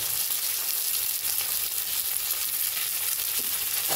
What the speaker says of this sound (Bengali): এবার পেঁয়াজটাকে আমি একটু ভালো করে ভাজা ভাজা করে নেব।